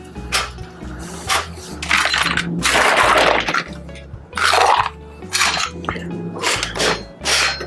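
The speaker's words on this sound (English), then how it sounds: "We're going to do hard shake" Loud rattling bursts of ice clattering inside a cocktail shaker during a hard shake of a sour, several vigorous rounds separated by short pauses.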